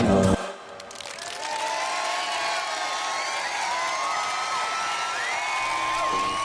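Audience at a magazine showcase event applauding and cheering for the performers, a continuous wash of clapping from a crowd with whoops and shouts riding over it, loud and sustained.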